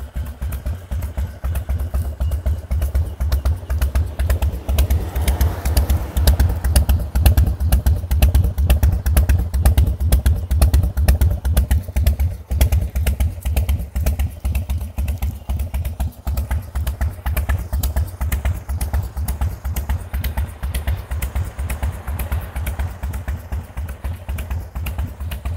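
A carbureted 1999 Harley-Davidson Dyna Super Glide Sport FXDX idles close by, a steady loping rumble with rapid even pulses that holds for the whole stretch, with no talking.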